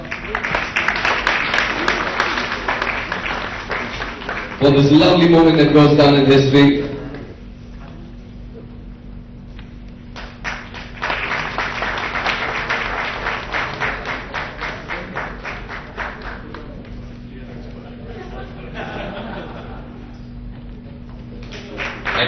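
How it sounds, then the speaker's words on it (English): Applause from guests at a celebrity event, a loud burst of clapping filling the room between stretches of amplified speech from a host. "we've all been waiting for a huge round of applause"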